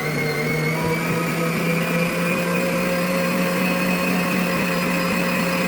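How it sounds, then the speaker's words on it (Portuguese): An electric stand mixer beats cream with a steady, loud, continuous motor whine and hum that holds unchanged throughout, with no voices. "O importante é bater na batedeira"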